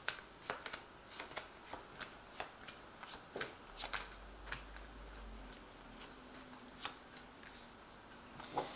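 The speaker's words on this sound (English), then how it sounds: "I'm just going to draw some cards from it." Crisp, sharp card snaps and flicks come at an irregular pace, like cards being pulled from a deck and laid down, in a quiet room.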